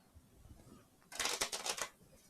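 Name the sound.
shuffling a deck of cards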